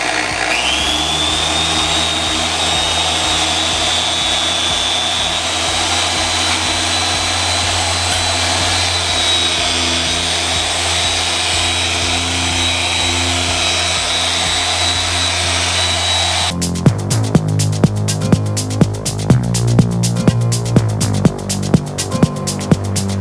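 A dual action polisher buffs car paint during paint correction before a ceramic coating. A steady, close whirring drone with a high whine holds for about seventeen seconds, then shifts to a rougher, rhythmically pulsing tone.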